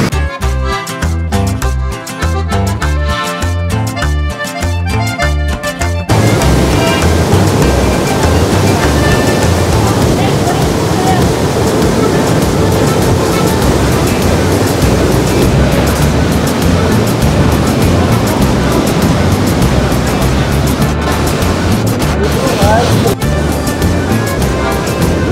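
Water gushing and churning at Poondi Dam in Tiruvallur, a loud continuous roar of rushing water with wind buffeting, after a few seconds of broken, choppy noise at the start.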